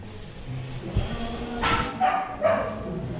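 A dog gives a few short yipping barks at moderate distance, set against steady outdoor background noise with faint talk nearby.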